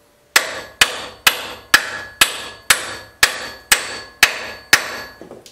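A hammer taps a forklift tilt cylinder into place: ten sharp, evenly spaced metallic strikes about half a second apart, close and loud with brief ringing decay, no talk.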